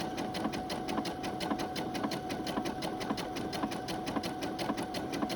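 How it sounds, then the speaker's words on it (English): A sewing machine runs a zigzag stitch along a fabric seam near the raw edge, a close, continuous rapid rhythmic chatter at an even speed. "line up our fabric so that our zigzag is going to be closest to the raw or the cut edge, and zigzag away."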